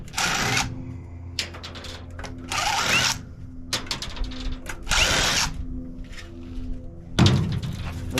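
A power drill whirs in repeated bursts of a second or so, separated by short pauses, while backing screws out of a golf cart charger, close and loud with no talking.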